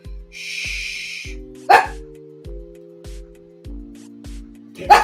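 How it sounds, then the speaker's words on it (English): A dog named Tanner barks several times nearby: two sharp, loud barks stand out among low rhythmic thumps and a steady hum, with a brief hiss early on. "Tanner's being barky dog."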